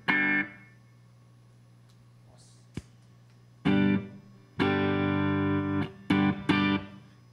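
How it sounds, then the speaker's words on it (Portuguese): An electric guitar played completely dry with no reverb in a studio workshop: loud, close, choppy strummed chords with a slightly driven tone that stop abruptly into near silence, in an uneven rhythmic pattern. "Aqui é sem reverb."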